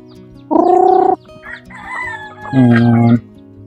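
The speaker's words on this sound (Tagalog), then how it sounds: "Ito yung mga manok mga kababayan, no? Dami nila, oh." Rooster crows twice loudly, long drawn-out calls near the start and end, with softer chicken clucking between them from a large flock of backyard chickens kept and fed morning and afternoon.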